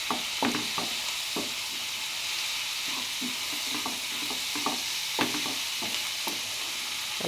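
Onions sautéing in a hot pan, a constant bright sizzle under a series of irregular, sharp spatula knocks and scrapes close by, with no one speaking.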